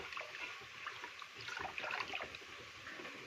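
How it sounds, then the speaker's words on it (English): Rice is washed by hand in water while cooking a simple village lunch. Soft, steady sloshing and trickling continues throughout at close range, with no voices. "Let's continue washing the rice."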